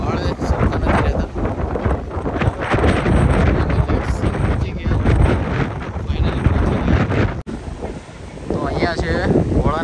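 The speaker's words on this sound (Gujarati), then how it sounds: "અત્યારે પવન એટલો બધો છે" Strong wind buffets the microphone throughout on an outdoor walk near Bhadkeshwar Mahadev temple by the sea at Dwarka, a loud continuous roar with gusts and a brief dropout, while someone talks over it.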